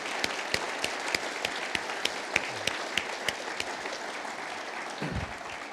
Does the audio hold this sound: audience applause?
yes